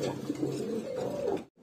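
A pair of racer pigeons coos in soft, continuous, rolling calls close by, with a brief drop to silence near the end.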